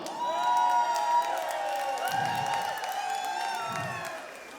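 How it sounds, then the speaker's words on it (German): A crowd at a Christmas party cheers, whoops and claps for a man being introduced, a fairly soft wash of voices and applause that tapers off toward the end. "Mal einen Applaus für unseren Marc Hallbauer."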